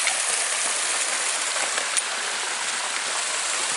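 A small waterfall and creek along the Eagle Creek Trail in Oregon rush steadily, a loud, even, hissing wash of falling water with no voices.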